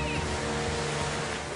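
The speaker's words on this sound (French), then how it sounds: "Les vagues étaient très hautes." High, storm-driven waves on the open sea near the sinking ferry Express Samina make a continuous, loud rushing roar of surf and wind that stays level throughout.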